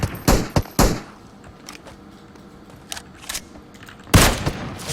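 Loud bursts of gunfire in PUBG Mobile, several quick shots at the start, scattered fainter distant shots in the middle, then another heavy burst near the end.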